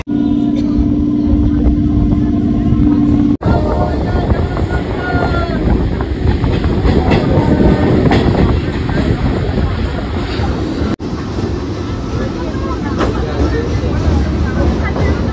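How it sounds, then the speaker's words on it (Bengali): A train pulls away from a station platform, a steady broadband rumble with wind-like roar filling the whole stretch, broken by a couple of sharp clicks, with voices faintly under the noise. "একটা ট্রেন বেরিয়ে গেল প্ল্যাটফর্ম থেকে"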